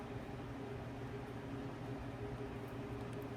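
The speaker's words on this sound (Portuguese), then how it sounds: "Eu tive que ligar o ventilador, não tô me aguentando" An electric fan runs with a soft, steady broadband whoosh and faint low hum, quiet and unchanging throughout, with no one talking.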